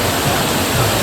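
A large waterfall at a hidden spot in Alibag thunders in a loud, continuous roar of rushing water, close and unbroken, with no voices.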